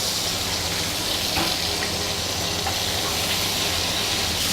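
Beef olives (braġġoli) searing in hot oil in a pan give off a steady, close, broadband sizzle and hiss that runs unbroken throughout, with no talking.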